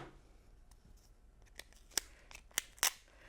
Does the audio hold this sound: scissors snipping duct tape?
yes